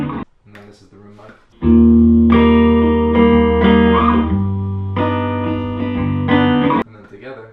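Someone talks briefly, then a distorted electric guitar recorded through a room microphone plays sustained chords with a slightly roomier, more distant tone before he speaks again.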